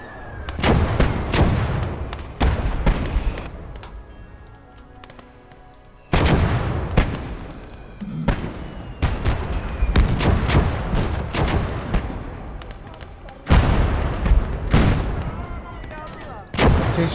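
Battle gunfire from the video game Motherland, with repeated sharp cracks and heavy booming blasts in bursts and volleys, some close and loud, others quieter between clusters of shots.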